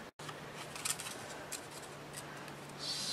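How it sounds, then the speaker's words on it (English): Scissors cut around paper for an envelope mini album, with a few quiet, close snips and rustles spaced over a near-silent background. "And I will cut around here"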